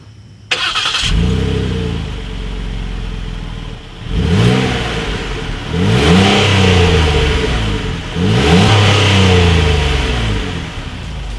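A 2017 Ford Explorer with dual chrome exhaust outlets starts up, then idles and is revved three times in clear separate bursts, each rising and falling, close and loud with no talking.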